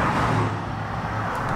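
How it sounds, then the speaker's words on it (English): Traffic passes overhead as a continuous, muffled low rumble that carries down into an underground storm drain, steady and fairly loud with no talking. "they're just cars going by"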